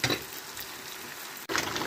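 Eggs fry in a pan, a close steady crackling sizzle with a brief dropout before the hissing resumes.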